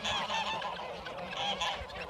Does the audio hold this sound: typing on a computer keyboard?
no